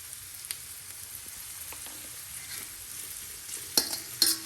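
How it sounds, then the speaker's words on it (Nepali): Quiet, steady sizzling of flattened rice dry-frying in a pan with a little turmeric and salt, with scraping stirs and two sharp utensil clicks toward the end. "अहिले यसमा चिउरा हालेर भुट्ने हो"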